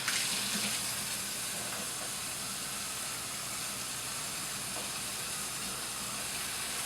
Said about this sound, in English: turn the water back on. All right, let's turn this on. We're going to check for leaks.